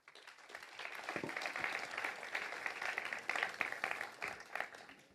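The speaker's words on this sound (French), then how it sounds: "Sous vos applaudissements" Audience applause welcoming a speaker at an agriculture lecture in France, moderately loud scattered clapping with uneven rhythm that continues steadily throughout.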